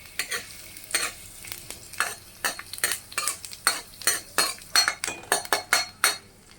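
Garlic fries in a little white oil while a spoon stirs it in rhythmic scraping strokes, a soft sizzle running underneath the repeated clinks and scrapes, close and steady.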